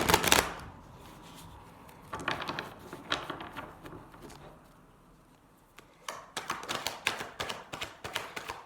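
A Pre-Raphaelite tarot deck is handled and shuffled, giving a brief opening rustle, then intermittent soft card slaps and a closing run of quick flicking taps, near and quiet.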